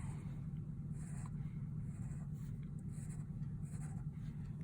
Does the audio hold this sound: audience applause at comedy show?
no